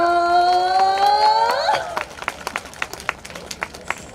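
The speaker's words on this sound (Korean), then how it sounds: "박수 한번 주세요." An audience at an opening celebration concert for a singer claps in scattered, separate hand claps that follow a sustained tonal chord. The claps are irregular and fairly distinct rather than a dense ovation.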